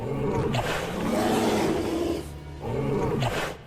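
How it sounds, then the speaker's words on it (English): A T-Rex in the film Jurassic Triangle gives a bear-like roar: two long, loud, deep growling roars, the first sustained for about two seconds and the second following after a short pause. "a T-Rex that sounds like a bear"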